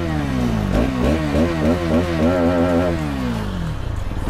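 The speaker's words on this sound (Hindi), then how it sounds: "एग्जॉस्ट साउंड आपको एक बार सुना देता हूँ" Hero Karizma XMR 210cc motorcycle exhaust, close and steady, idling and then revved in several quick repeated blips before settling back to idle.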